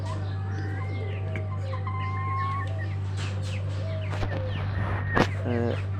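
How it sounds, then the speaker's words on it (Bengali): Roosters and chickens, mostly roosters of over a kilogram each, cluck and call in a farmyard over a steady low hum, with a few brief louder squawks near the end. "এগুলো বেশিরভাগ মোরগ"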